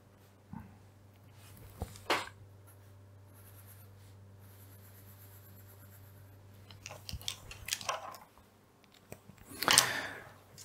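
Writing on a board during a lecture on synchronous generators, heard as a few scratchy pen or chalk strokes, quiet and intermittent with pauses between, the strongest burst near the end.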